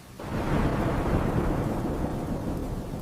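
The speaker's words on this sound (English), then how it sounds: "The thunder was loud." Loud, sustained rumble of thunder in a stormy night, a broad roar that swells quickly after a brief quiet start and stays heavy, with rain-like hiss mixed in throughout.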